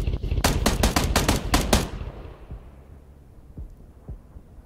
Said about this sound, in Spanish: Espera, me disparan. Me disparan desde atrás.